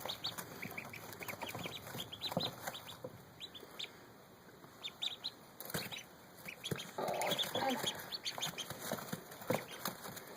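White and tan female Rouen duck among farm poultry, with repeated quacks and clucking mixed with other fowl calls over a steady, busy outdoor background.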